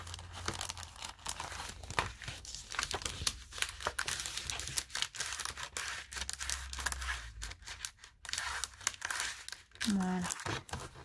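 Plastic sleeve crinkling as it is pulled over paper while making a triple pouch, with uneven bursts of rustling and crackling close by. A person speaks intermittently under the rustle.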